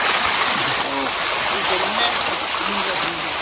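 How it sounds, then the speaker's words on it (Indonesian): Waterfall at a river beside rice fields, a steady broadband rush of falling water filling the scene, with faint voices mixed in under the continuous roar. "Oh, ini air terjun."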